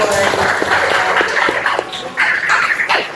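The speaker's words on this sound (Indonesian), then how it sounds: "Tepuk tangan buat dia." A crowd claps in a steady burst of applause lasting a few seconds, with some voices mixed in beneath the clapping.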